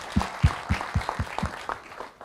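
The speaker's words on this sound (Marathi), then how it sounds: "त्यांच्यासाठी एकदा कृपया टाळ्या वाजवून जाऊ देत" Audience members at a public discussion event clap in an even rhythm, about eight distinct handclaps in just over two seconds, close and clear with no voices.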